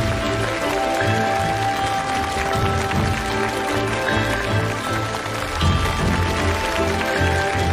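Audience applause on a Chinese television stage show as two performers are invited on, dense continuous clapping filling the room at a steady loud level throughout.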